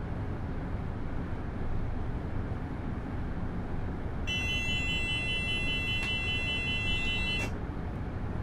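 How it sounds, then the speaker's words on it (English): A cab warning alarm in the Train Sim Classic simulation of a Virgin HST sounds for about three seconds as a steady, shrill electronic tone with a rising sweep, then cuts off abruptly, heard over a constant low cab rumble. "That alarm sounds horrible, by the way."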